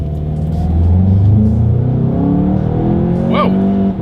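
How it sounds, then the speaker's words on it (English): A 2020 Volkswagen Golf GTI accelerates hard on a straightaway, its engine droning loudly and rising steadily in pitch as it climbs through the revs, heard from inside the cabin with constant road and engine rumble. "let's now go ahead and do a quick little acceleration test here with the car having full control"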